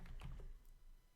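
Quick, quiet keystrokes on a computer keyboard as VBA code is typed into Excel, a brief cluster of soft clicks.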